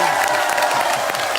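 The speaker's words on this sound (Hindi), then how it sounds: "एक बार जरा जोर से ताली बजाओ" A crowd at an outdoor rally for a workers' strike claps loudly and steadily in a dense burst of applause, with a few cheers and murmuring voices mixed in.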